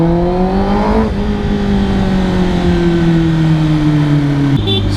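Kawasaki ZX10R superbike (2022) in traffic, engine and exhaust pulling through gears with rising tones, a shift, then a drop toward the end, loud and close.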